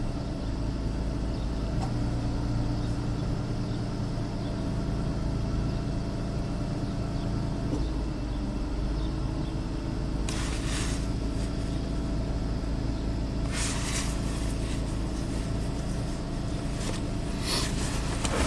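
Nissan Xterra engine settling to idle while running rich, a steady low rumbling hum close by with brief clicky bursts partway through.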